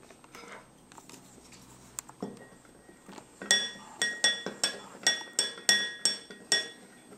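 A spoon stirs a borax mixture tinted with blue food coloring in a glass, light scraping at first, then a steady rhythm of bright clinks, roughly eight evenly spaced taps against the glass, close and clear.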